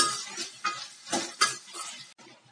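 Tomatoes sautéed in a pan for aloe vera chutney. Soft sizzling sits under several distinct stirring scrapes from a utensil, close and intermittent, with no voices.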